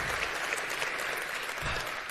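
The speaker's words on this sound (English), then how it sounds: "Please give Gant a huge round of applause." A conference audience at a tech event gives a round of applause, a steady, fairly distant wash of many hands clapping with no talk over it.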